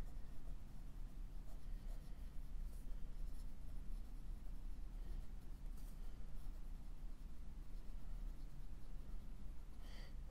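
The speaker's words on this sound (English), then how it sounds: "So now for the writing sample." A Sheaffer Valiant Touchdown vintage fountain pen with a 14 karat Triumph nib scratches steadily across paper, a soft continuous writing rustle heard close and alone over a low background hum.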